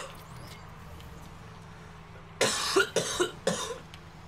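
Four or five harsh coughs in a quick burst, loud and close, following quieter background noise from a game.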